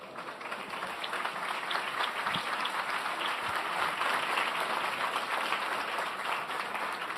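A large audience at a business chamber assembly gives steady, dense applause that holds evenly for several seconds at moderate loudness, with no speech over it.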